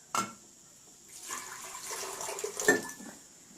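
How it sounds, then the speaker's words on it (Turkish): Water poured slowly into a container for a homemade lava lamp, a soft trickling splash after a sharp knock on the vessel, with a brief clink near the end. "Şimdi ilk olarak suyumuzu yavaşça boşaltıyoruz."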